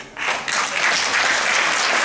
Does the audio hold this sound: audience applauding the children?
yes